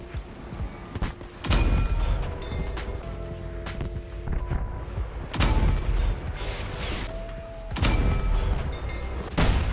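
Vehicle-mounted guns firing in the vehicle combat game Crossout: four or five loud, deep booming shots at irregular intervals, each with a rumbling tail, over engine and wind noise.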